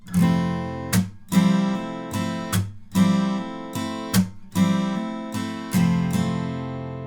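An acoustic guitar playing a song's strumming pattern, with bright chord strums in a steady repeating rhythm, each stroke sharp and ringing, played alone at close range.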